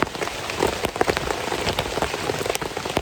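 Rain pattering steadily at a campsite, dense close drops striking a surface with scattered louder taps, continuous and alone without voices.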